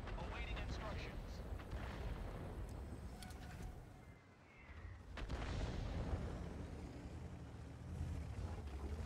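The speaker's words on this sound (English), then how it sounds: "They're firing at me." Enemy tanks fire in the World of Tanks video game on the Steppes map, with heavy booming shots over a dense, rumbling battle din that dips briefly before surging again.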